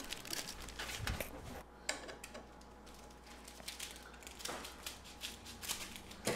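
Baking paper being fitted and pressed into a baking pan: faint, close crinkling and rustling with scattered soft crackles and taps, no voice.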